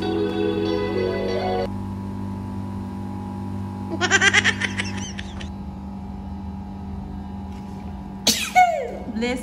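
A person lets out a short, sharp sneeze midway, with another abrupt burst near the end, over a steady mechanical hum.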